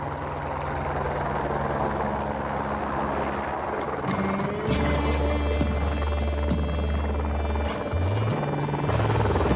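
Loud, continuous helicopter rotor and engine drone heard from inside the cabin, with shifting whine tones and steady chopping throughout.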